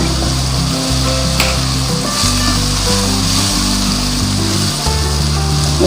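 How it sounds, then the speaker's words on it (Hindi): Cumin seeds sizzle loudly and steadily in hot oil, a dense continuous frying crackle with a low rumbling hum beneath and no talk. "ये देखिए अब इसमें डालूंगी मैं ये जीरा"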